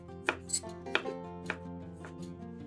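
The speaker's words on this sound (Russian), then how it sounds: "200 грамм ветчины нарезаем небольшими кубиками." Knife chopping ham into small cubes on a cutting board, four or five sharp separate strikes at an uneven pace, close by, with a steady background hum.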